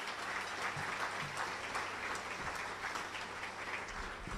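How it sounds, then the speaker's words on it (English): Audience at a school district state-of-the-district address applauding the leadership team, a sustained, even round of clapping from a fairly distant crowd. "If I could have a round of applause for our leadership team."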